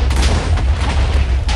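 In a Minecraft game, a house blows up. A dense, loud rumbling blast fills the whole moment with boomy low-end roar and crackling debris, close and overwhelming.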